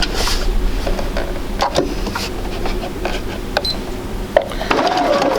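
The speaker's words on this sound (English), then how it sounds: "I'm going to sew these together, same way I just did, with a reverse stitch." Sewing machine joining quilt fabric pieces with a reverse stitch, a close, busy mechanical whir and clatter with small knocks and shifts as the machine runs forward and back.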